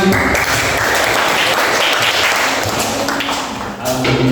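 Classroom of students clapping together during a teaching practice lesson on prayer, a loud, sustained burst of close applause with some thumping taps mixed in.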